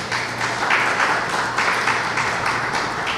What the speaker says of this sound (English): I want you again to give Cardi a round of applause for that.